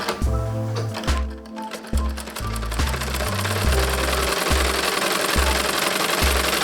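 A sewing machine runs steadily, stitching the seams of a pillow cover made from old clothes, with a loud rhythmic motor whir and needle thumping that starts and stops briefly before running continuously.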